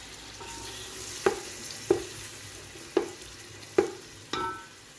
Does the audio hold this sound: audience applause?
no